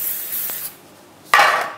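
Cooking spray hisses onto a baking tray in two short bursts, the first softer and the second a louder, brighter spray, heard close.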